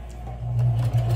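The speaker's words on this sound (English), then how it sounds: "And now we're going to start to sew." A sewing machine stitches fabric for a bag, its motor giving a steady, close, fairly loud low hum that swells slightly over a brief run.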